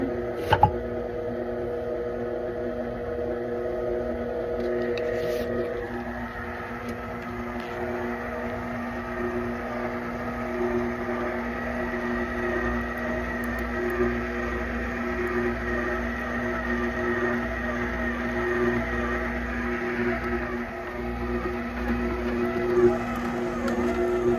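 Stand mixer kneading sourdough dough, a steady droning motor hum with a faint click at the start and a slight change in tone partway through, constant and alone.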